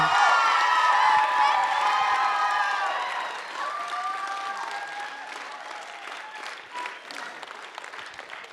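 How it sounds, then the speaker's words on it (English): Audience applause and some cheering for a performer after a school stage play, a dense clapping roar that gradually eases, with a sustained musical tone sounding over it early on. "let's get one more round of applause for Miss Mimi Wiseman!"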